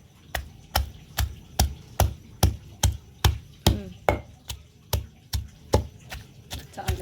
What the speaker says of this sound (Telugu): ఫస్ట్ అయితే దంచి చూద్దాం